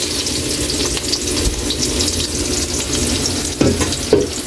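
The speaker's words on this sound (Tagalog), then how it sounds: "Mainit yung mantika natin, lagay na natin yung bawang. Lagay na natin yung sibuyas." Garlic and onion sizzle loudly in hot oil for beef caldereta, with a steady crackling fry and a couple of brief stirring clatters near the end.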